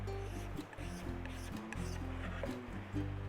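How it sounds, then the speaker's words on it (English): A putty knife loaded with fairing compound is scraped clean against a board in short, rhythmic rubbing strokes, close-up and quiet over a steady low background hum. "In between batches, I clean my putty knife and the board up really well."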